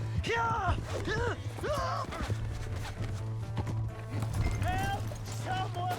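Horse hooves clopping with a whinny in Red Dead Redemption 2, heard under loud game dialogue and a steady background hum.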